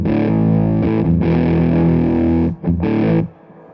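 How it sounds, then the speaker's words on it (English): Electric guitar run through a King Tone Silicon Fuzz pedal, loud thick fuzz-distorted chords sustaining and restruck several times, then a brief gap and one more strummed burst before it cuts off. "The next thing I got here is the King Tone Silicon Fuzz by Jessie Davey."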